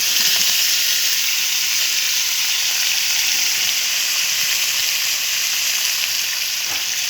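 Steady, loud sizzling of jackfruit seeds frying with spices in hot oil, a continuous hiss with faint occasional stirring.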